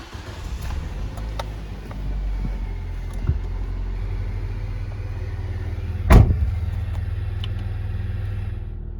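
A 2007 Nissan Micra with automatic transmission and about 117,000 km cranks and fires up about two-thirds of the way in, then settles into a steady, even idle close by, with no talking.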